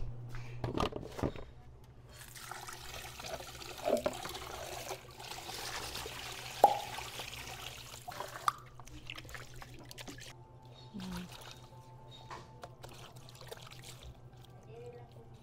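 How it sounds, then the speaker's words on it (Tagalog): Running water trickles and splashes while food is washed for a Filipino provincial delicacy, faint and intermittent over a low steady hum, with occasional clatters. "kailangan ko pa itong hugasan ng tubig"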